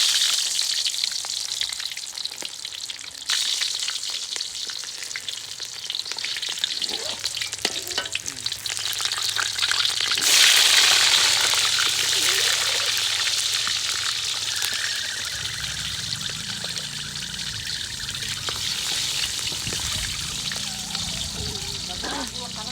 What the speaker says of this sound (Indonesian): Ya kalau cabai kan di goreng pastinya itu.